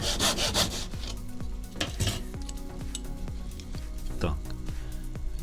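Hand saw cutting a small wooden kumiko strip held in a miter box, a run of steady back-and-forth strokes with a rhythmic rasping pulse, close and loud throughout.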